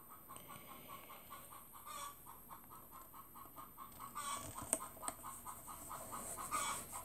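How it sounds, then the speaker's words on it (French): A hen cackles repeatedly after laying an egg, in a steady rhythmic series, moderately distant, with a few sharper clucks and other fowl sounds toward the end. "Vous entendez, la poule vient de pondre."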